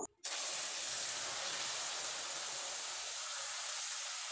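Water poured into hot, half-cooked sugar caramel makes a loud, steady steam hiss that bursts in suddenly after a brief quiet moment and keeps going close up.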